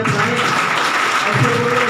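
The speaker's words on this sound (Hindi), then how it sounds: "एक बार जोरदार ताली ऐसे" Loud, dense applause from a crowd at a live testimonial event in Rudhauli, Basti, a steady wash of clapping filling the whole two seconds without a break.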